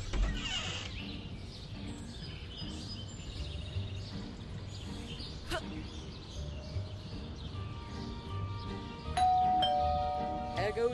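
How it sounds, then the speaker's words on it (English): A doorbell chimes in the video game Scary Teacher 3D, ringing out late over quiet game ambience with creaks and mechanical clicks. "There goes that stupid bell again."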